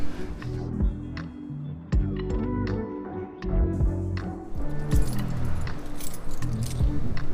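A bunch of keys jangles and clinks as it is snatched up and handled, with bright metallic rattles in uneven bursts, close and fairly loud over low background rumble.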